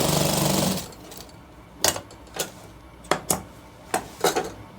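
Sewing machine stitching the shoulder seam of a shirt: a short burst of close machine whirring opens, followed by a scatter of sharp clacks and taps at uneven intervals.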